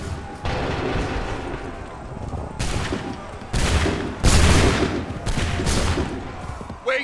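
Musket volleys in Assassin's Creed 3 Remastered on PC, heavy bursts of massed gunfire crackling over a rumbling battlefield din, several loud rolling salvos in a row.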